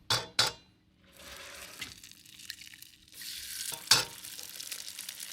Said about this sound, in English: Just put two eggs in it.